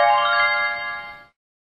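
Single short electronic telephone ring heard on a call placed from a coin payphone, a bright tonal burst lasting about a second that cuts off abruptly into silence.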